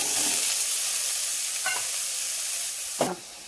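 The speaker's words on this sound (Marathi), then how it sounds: "त्याच्यानंतर मी तेच कढईमध्ये पनीर थोडंसं शॅलो फ्राय करून घेते" Paneer shallow frying in a kadhai gives a steady, bright sizzling hiss, with a couple of brief scrapes or clinks from stirring near the end and no talking.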